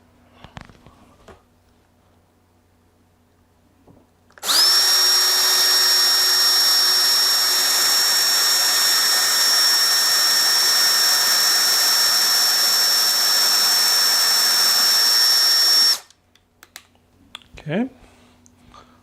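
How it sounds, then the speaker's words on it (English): A power drill bores a pilot hole into the side panel of an LED marquee assembly, a loud, steady high whine running about eleven seconds without a break, with quiet handling noises before and after. "we're going to drill a pilot hole before we put in our screw on the side here"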